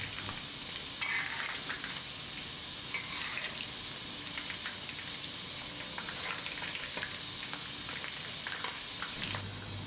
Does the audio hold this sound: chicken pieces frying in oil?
yes